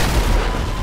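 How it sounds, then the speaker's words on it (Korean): A turret cannon shell hits in GTA 5, heard as a dense loud booming roar with low rumble that fills the whole moment close up, no voices on top. "포탑 포가 맞는 거지"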